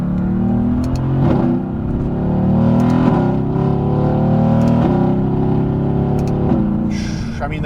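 A 2016 Mercedes-AMG GT S engine revs hard and accelerates through several gear changes. Its loud, close roar swells and dips with each shift.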